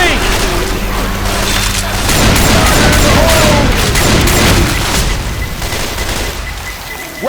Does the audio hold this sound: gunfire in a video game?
yes